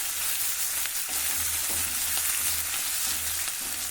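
Onions fry with salt in a pan for okra and coconut curry, a loud, dense sizzle running continuously up close, with repeated rhythmic stirring strokes underneath.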